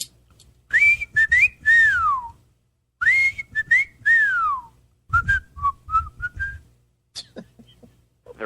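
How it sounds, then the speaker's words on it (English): Someone whistles the Andy Griffith Show theme tune, clear close phrases of rising and falling notes broken by short pauses, with a faint voice murmuring underneath. "Where we whistle the Andy Griffith song,"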